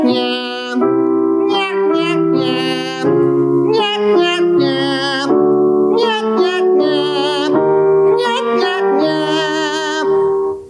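A nasal, buzzy vocal warm-up sung into the mask, with a voice running through short bright repeated phrases that rise and fall. The singing continues steadily and loud for about ten seconds.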